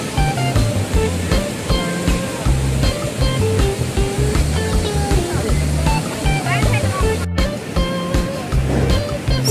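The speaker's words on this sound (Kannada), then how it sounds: "ನೋಡಿ ಎಷ್ಟು ಚೆನ್ನಾಗಿ ನೀರು ಇಲ್ಲಿಂದ ಬರ್ತಾ ಇದೆ. ಸೊ ಮೇಲಿಂದ ನೀರು ಹರಿದು ಕೆಳವರೆಗೂ ಹೋಗುತ್ತೆ." Water flows down from above in a natural stream near Brindavan Garden and the KRS dam in Mysore, making a continuous broadband rush. It stays loud and steady throughout, with other background sound mixed in.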